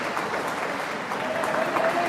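Crowd of Nueva Estrella supporters applauding their futsal players at a Primera B AFA futsal match against Platense, a short steady burst of many hands clapping at moderate distance.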